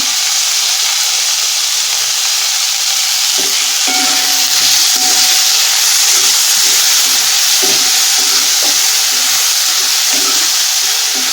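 Onion and finely chopped tomato frying in a pan for a cauliflower dish, a loud steady sizzle and hiss running throughout with faint stirring scrapes underneath.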